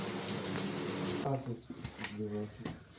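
Tap water runs from old pipes at weak pressure, a rushing splash that cuts off and then returns as uneven, sputtering spurts, close by with a voice speaking over it.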